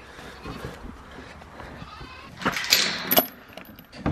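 Loud grunting and squealing from pigs bursts out midway, a few sharp calls close by over low shuffling and faint background noise.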